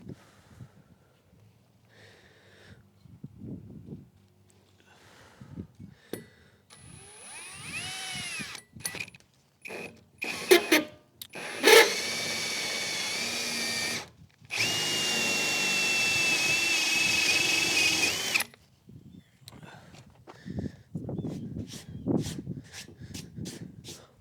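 A router fitted with a spin weld driver spins up on a plastic fitting for a custom Airstream holding tank, giving several short high whirring bursts and then a steady loud whine lasting a few seconds, with quiet handling noises around it.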